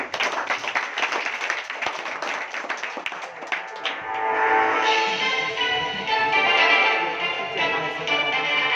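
Quiz competition audience claps to open the first round, scattered claps at first that swell into fuller, steadier applause before fading slightly.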